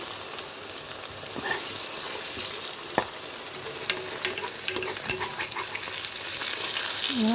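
A spoon works through mixed vegetable rice in a pan over gentle frying sizzle, with scattered scraping and tapping strokes up close and a brief squeaky scrape at the end, no talk.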